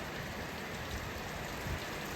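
Pouring rain heard from beneath a barn, a steady, dense hiss of drops drumming on surfaces, even and unbroken across the moment.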